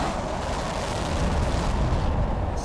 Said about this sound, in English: Let me go ahead and launch this guy first.